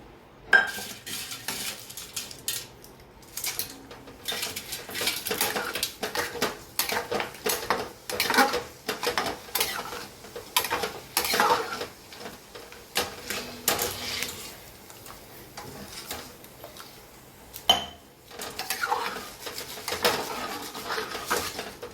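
Mung beans are tipped into a masala in a pot and stirred, bringing repeated scraping and clinking of a utensil against metal in uneven bursts, fairly close, with no talk.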